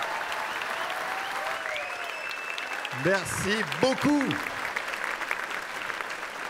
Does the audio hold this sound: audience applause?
yes